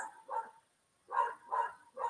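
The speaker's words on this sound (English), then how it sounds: "I'm sure you can hear this crazy dog." A dog barks in three or four short, fairly loud bursts with brief pauses between them, heard indoors during a casual online group session.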